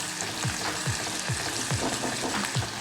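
Ginger frying in a pan while making homemade Schezwan and chilli paste, a dense, close sizzle with a regular rhythmic scraping of a stirring utensil about twice per second.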